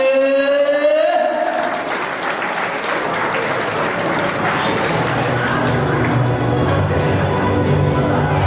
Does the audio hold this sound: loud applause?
yes